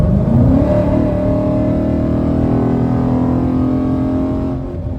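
A Dodge Challenger muscle car accelerates hard on a road, its engine note climbing in pitch as it revs up, loud and close from inside, then easing slightly at the end.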